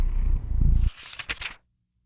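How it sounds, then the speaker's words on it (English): A cat's purr rumbles low and close for under a second, followed by a few brief softer rustles before it goes quiet. "Come closer, the cat purred."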